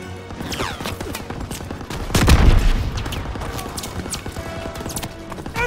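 Rapid machine gun bursts from an MG nest in a farmhouse hayloft during the D-Day landing in Call of Duty: WWII, loud and close, with a heavy boom midway and crackling gunfire continuing around it.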